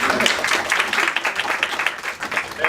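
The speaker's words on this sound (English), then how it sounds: "a round of applause" An audience applauds steadily, many hands clapping at once in a dense, sustained patter from a moderately near crowd.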